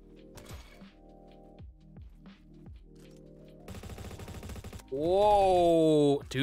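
An AK rifle fires in the online shooter Bad Business: a dense, loud burst of automatic gunfire bursts out after several sharp mechanical clacks, followed by a rising whining tone.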